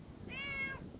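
A cat gives one short, clear meow close by over quiet outdoor background noise in a garden where peas are being planted.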